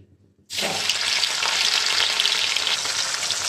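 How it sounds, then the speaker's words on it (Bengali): Rohu fish pieces drop into hot mustard oil, salted to stop spattering, in a kadai. A loud, dense sizzle bursts in suddenly and holds steady and close without letting up. "এটা আমি সরষের তেলেই ভাজছি"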